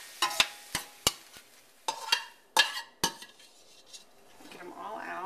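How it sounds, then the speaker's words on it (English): Vegetables sauté in a pan while a metal utensil stirs them, giving a run of sharp, irregular clanks and scrapes against the pan and a soft sizzle that grows near the end, with no talking. "we're just going to saute these until they're tender"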